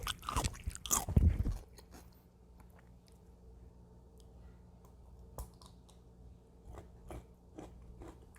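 A crunchy pickle is bitten with a loud, sharp crackle up close, followed by quieter, sparse chewing crunches and clicks in near silence.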